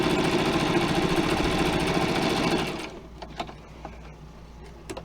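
A sewing machine runs fast and steady, stitching across the folded hem of a cloth napkin, its dense whirring buzz stopping abruptly after under three seconds, followed by a few soft clicks and handling noises.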